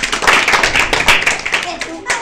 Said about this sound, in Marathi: सर्व मुलांनी या 7वीच्या मुलांसाठी टाळ्या वाजवायच्या आहे